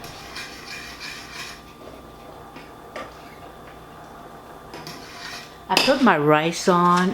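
Clatter of a pot of rice set down on a stove, with dishes and utensils knocking in a home kitchen, light clinks early and louder clattering near the end.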